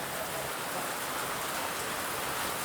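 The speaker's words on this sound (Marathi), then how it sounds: "फुल पाऊस झालेला आहे." Heavy rain pours down steadily during a mountain road trip in Sikkim, a dense, even hiss of drops on surfaces with no voices.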